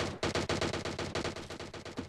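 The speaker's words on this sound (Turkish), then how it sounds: "Hala silah sesleri çok fena geliyor." Automatic gunfire from a battle royale video game rattles in a rapid, steady burst of evenly spaced shots lasting about two seconds, loud and continuous with no talk over it.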